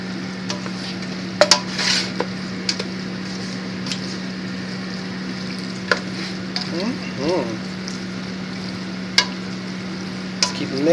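Macaroni cheese and chili beans stirred in a pan on the burner, a steady low sizzle under scattered scrapes and clinks of the spoon against the pan.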